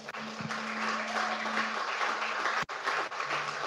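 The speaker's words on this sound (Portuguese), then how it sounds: "Você pode aplaudir o Senhor Jesus Cristo?" Church congregation applauding during a Portuguese-language sermon, a dense, steady wash of many hands clapping with a steady tone underneath and a brief dropout near the end.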